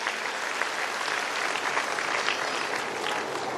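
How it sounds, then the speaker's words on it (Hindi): A crowd at a Hindu religious discourse claps steadily in dense, even applause, close and continuous without letting up. "जोरदार तालियां एक बार प्राचार्य जी के लिए"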